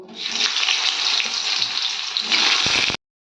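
Potatoes frying in hot oil in a pan with black cumin and bay leaves, a steady loud close-up sizzle that swells slightly near the end before cutting off abruptly.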